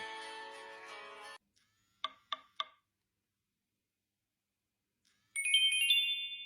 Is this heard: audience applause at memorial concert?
no